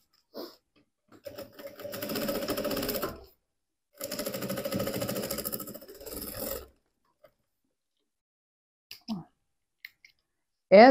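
Sewing machine stitches a teddy bear backpack in two clicking, whirring runs of about a second or two each, close up, followed by a few scattered handling clicks.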